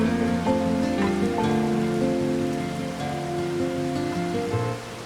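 Rain falls in Farming Simulator 25, a continuous patter on surfaces under tonal in-game music, steady and fairly loud with no talking.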